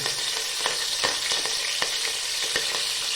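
Onion, ginger and green chilli fry for biryani with a loud, steady sizzle, broken by repeated scraping strokes of a spoon stirring through the pan.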